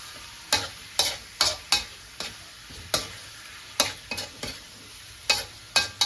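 A ladle stirs chicken tinola in a pot, giving a steady run of sharp scraping strokes about twice a second, close and clear, with no talk over them.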